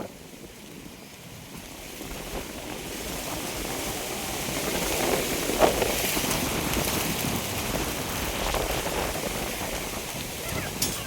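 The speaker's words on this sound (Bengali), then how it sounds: "তাড়াতাড়ি করো বৃষ্টি পড়তে লেগেছে" Rain falling steadily outdoors during a thunderstorm, a broad, even hiss that builds slightly and stays constant, with faint wind noise and no voices.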